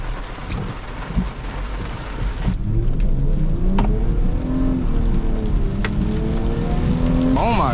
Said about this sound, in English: I hope the rain sounds ain't loud for y'all.